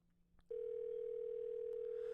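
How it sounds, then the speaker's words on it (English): A steady phone dial tone from Doki Doki: This Bond We Share, a single unbroken hum that starts abruptly after a faint click and holds level, close and alone with no talk over it. "I quickly dial her numbers, tiredly holding the phone to my ear"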